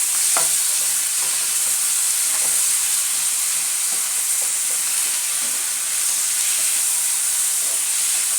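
Coriander leaves stir-fried with tomatoes in a pan, giving a constant hissing sizzle with light, irregular taps and scrapes from stirring, close by and unbroken by speech.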